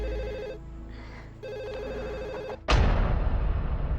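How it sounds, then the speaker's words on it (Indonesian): A home telephone rings in two electronic trilling bursts indoors, then gives way to a sudden loud burst of broadband noise in the last second and a half. "Saya nggak berani angkat telepon rumah ini, Bu Supi."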